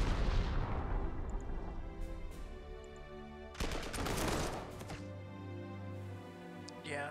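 Strategic bombing in the Panzer Corps 2 wargame, heavy rumbling explosions and artillery-like booms, a long dense blast followed by a second sharp burst midway, with softer rumbling trailing off.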